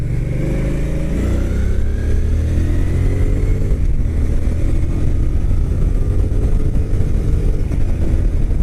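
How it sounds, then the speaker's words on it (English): A 2013 Suzuki Boulevard C50T 805cc cruiser motorcycle rides at steady speed, its engine droning loudly and continuously with wind noise and no talking. "But it's got some get up and go for an 805cc cruiser."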